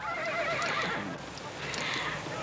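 A horse whinnies loudly and close up, a long quavering neigh, with hooves clip-clopping in a steady rhythm underneath.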